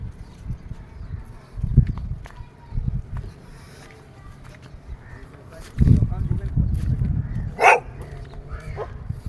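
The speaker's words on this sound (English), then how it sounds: "All around the place you'll find dogs in each and every corner." Stray dogs on a beach bark in a few loud bursts close by, spread across the moment with quieter gaps between them, along with some background activity.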